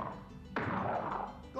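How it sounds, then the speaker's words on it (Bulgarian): Two sharp, loud blows of a left fist against a wall: a near, abrupt impact thud followed by a broad ringing crash that lingers, with a second hit arriving at the very end. "Ще удариш 2 пъти стената с левия си юмрук."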